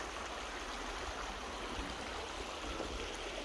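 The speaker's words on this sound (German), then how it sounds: "da kommt noch ein Bach runter." A mountain stream flowing down along the Ilfis valley near Marbach, a steady, full rush of water close by, continuous and unbroken with no voices.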